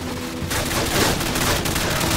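Gunfire in Call of Duty 4: Modern Warfare: after a brief quieter lead-in, a dense, loud burst of rapid shots erupts and keeps going, close and harsh.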